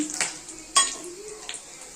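Whole cumin, dried chillies, cloves, cardamom and cinnamon crackle in a hot wok, with a few short sizzling bursts and light stirring clicks close by.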